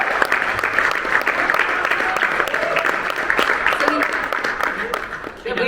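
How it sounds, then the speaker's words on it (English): Audience applause at a Hasbro Star Wars Celebration panel, a dense crowd clapping throughout with cheers and voices mixed in, fairly close and loud. "Wait for the applause."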